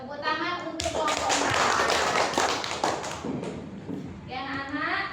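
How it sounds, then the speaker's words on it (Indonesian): Children in a primary school classroom clap for a group, a loud, dense burst of many small hands that swells and then tapers, with a teacher's voice before and after and children's voices mixed in. "Tepuk tangan untuk kelompok"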